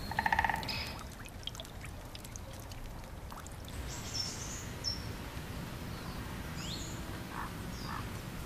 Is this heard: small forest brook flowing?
yes